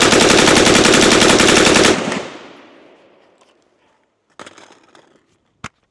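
An LWRC IC-A5 rifle fires a long, loud full-auto burst during a barrel meltdown, the shots packed into a continuous roar that stops abruptly. A ringing decay follows, then a couple of scattered clatters and one sharp crack.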